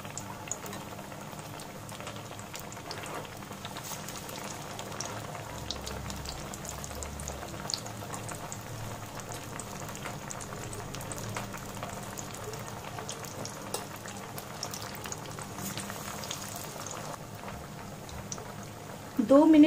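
Buckwheat (kuttu) pakoras bubble in hot oil over a medium gas flame, a steady close fizzing and bubbling that runs throughout, with a brief louder clatter at the very end.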